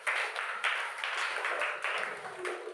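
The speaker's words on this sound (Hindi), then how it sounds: "बच गया तो ताली बजा दो।" Children clap in short bursts during a kit-kit hopscotch game outdoors, several quick rounds of applause that rise and fade across the moment, fairly close and moderately loud.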